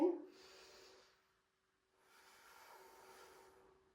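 Deep, slow breathing during a hatha yoga session: a long soft breath, a pause of near silence, then a second long airy breath, close and quiet with no talking.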